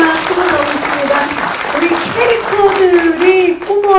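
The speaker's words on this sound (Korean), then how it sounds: "박수가 쏟아나오고" Audience applause fills a production press conference for the Korean film Noryang: Deadly Sea, a steady dense clatter of many hands, with a host's voice speaking over it.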